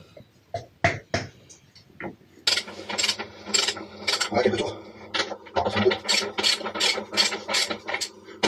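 The rear axle nut on a Yamaha XSR700-family motorcycle is loosened with a wrench, giving a series of close, sharp ratcheting clicks and scraping metal bursts in an uneven rhythm while someone speaks.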